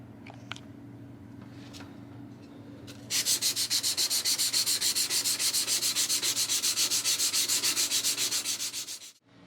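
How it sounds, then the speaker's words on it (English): Steel knife blade sanded by hand with 320 grit sandpaper on a foam backer: rapid, steady back-and-forth rasping strokes, close and loud, after a few light taps and a quiet hum. "we're going to go ahead and start sanding with the 320 grit"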